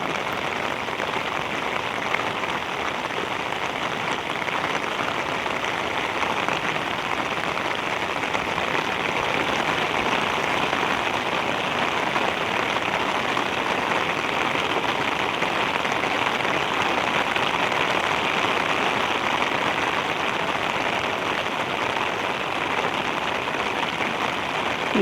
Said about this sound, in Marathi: पाऊस थांबतो, परत पाऊस येतो.